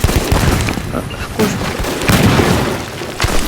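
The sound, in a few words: gunfire from weapons in a Roblox zombie video game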